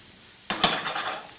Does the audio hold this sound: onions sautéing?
yes